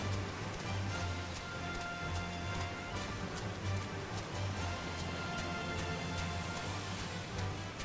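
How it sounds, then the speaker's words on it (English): Steady rain falling in the Final Fantasy XIV game world, a continuous soft patter on surfaces with a low ambient hum beneath, even and unbroken throughout. "I'm tired of the rain."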